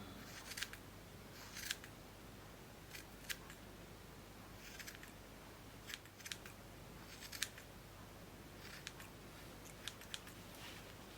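Scissors snip and trim a yarn pom pom into a hedgehog shape, with short sharp cuts coming in irregular bursts close to the microphone over a quiet background.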